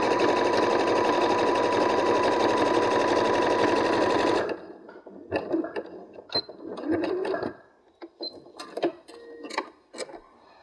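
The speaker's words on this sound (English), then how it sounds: "Now I am going to zigzag this one in place just to hold it." A sewing machine runs a steady, buzzing zigzag stitch through fabric for a scrap fabric wallet, loud and close for about four seconds, then stops and gives way to soft handling clicks and rustles.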